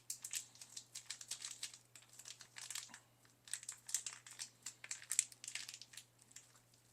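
A plastic piping bag filled with venison and spinach stuffing crinkles and crunches in close, repeated bursts while pasta shells are filled, with no talking.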